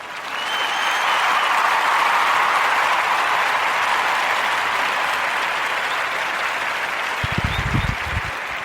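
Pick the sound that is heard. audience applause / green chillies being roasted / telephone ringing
audience applause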